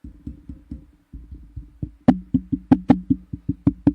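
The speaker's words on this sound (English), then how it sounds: "there's a lot of knocking coming in" Steady knocking on a surface is picked up by a sensitive MAONO XLR/USB dynamic podcast microphone: about twenty sharp, close raps in a fairly even rhythm, soft at first, then louder and more resonant.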